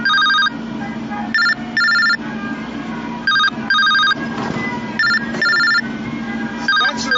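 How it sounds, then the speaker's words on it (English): Phone ringing in a video game: a repeated electronic telephone ring in short double bursts, about five rings, loud and close, with quieter background game sound between them. "Oh, there's the phone again."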